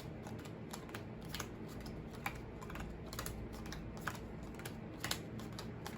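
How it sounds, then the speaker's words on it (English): Playing cards are dealt one at a time onto piles, each card making a soft, quick flick or tap in a rapid, irregular patter. The sound is faint and close, with no talking. "You'll continue to give each pile 1 card only from the top of the deck in order"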